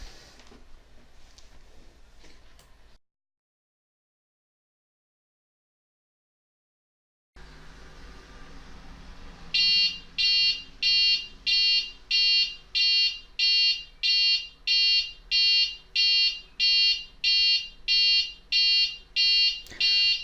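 An Arduino Uno alarm clock buzzer beeps in a fast, regular series of sharp, high, near pulses that continue to the end, following a low background hum and a few seconds of silence.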